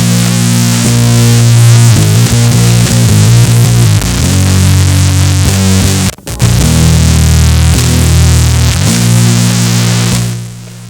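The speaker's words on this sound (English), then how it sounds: "I converted this IKEA power strip into a distortion pedal." Electric guitar played through a homemade fuzz distortion pedal built from a cheap IKEA power strip, giving a loud, dense, saturated tone with sustained chords, a brief cutout near the middle and a fade at the end.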